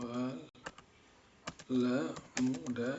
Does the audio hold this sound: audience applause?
no